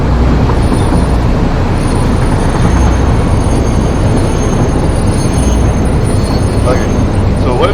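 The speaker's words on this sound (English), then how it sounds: "Well, yeah, it's a train." A train rolls along steadily in the video game Satisfactory, a continuous loud rumble of wheels on track with faint high squeals, while people talk over it.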